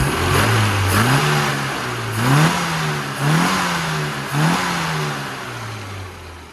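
A Radford car engine, freshly carburettor-tuned, revs up several times in succession, each rise climbing in pitch then settling back toward idle, loud and close with no speech.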